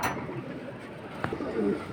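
Pigeons at a pigeon market coo close by, a low throaty call rising over background hubbub.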